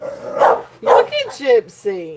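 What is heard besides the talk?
dog barking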